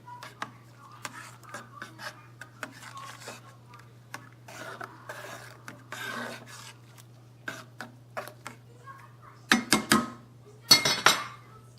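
Cumin seasoning being stirred into salsa in a bowl, a spoon scraping and clinking against the bowl in a run of light, irregular strokes that end in a few louder knocks, with a steady low electrical hum underneath.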